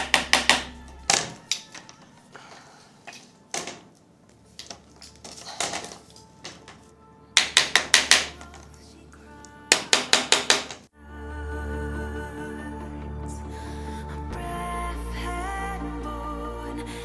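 Hammer tapping PVC pipe connections tight on a DIY RC plane rack, a series of sharp knocks in short bursts with pauses between, followed by a steadier rumbling background.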